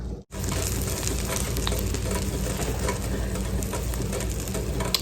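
A beef brisket grilled cheese sandwich sizzles steadily in a hot pan, a dense continuous frying hiss after a brief gap at the start, close and loud with no talking.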